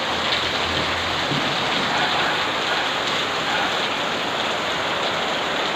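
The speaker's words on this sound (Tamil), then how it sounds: "மழை வந்து எவ்வளோ வேகமாக பெய்யுதுன்ட்டு" Heavy rain pours down steadily, a dense, constant hiss of drops hitting surfaces and a roof with no letup and no voices.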